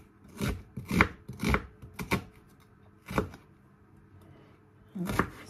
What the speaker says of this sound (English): now I'm going to cut the cabbage